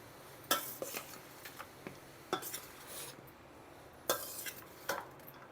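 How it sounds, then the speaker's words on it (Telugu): Amla rice, a tangy pulihora, is mixed in a pot with a spoon, producing quiet, irregular metallic scrapes and clinks against the vessel at intervals. "ఇట్లా అన్నం అంతా బాగా కలిపేసుకొని"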